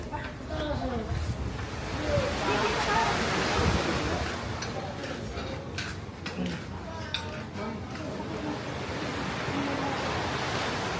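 Sea waves at Subic wash in a steady, rushing surf, with people talking faintly and some clinking in the background.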